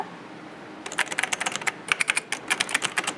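Rapid clicking keystrokes on the keyboard of an Epson Equity LT-286 laptop computer, starting after a quiet moment and continuing in uneven bursts, close to the microphone.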